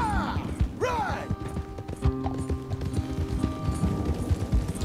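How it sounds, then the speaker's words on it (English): Horse hooves clip-clop in a steady rhythm while riding in Red Dead Redemption 2, close and fairly loud, with a brief whinny-like sound early on. "I'm over here trying to ride my horse."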